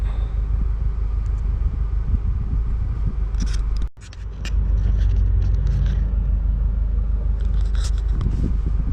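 Cabin sound of a 2018 Subaru Impreza STI driving at night, a loud, steady engine and road rumble that drops briefly near the middle before resuming at full strength.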